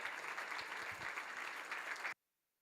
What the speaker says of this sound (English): Let's have another round of applause for our three magnificent ladies here.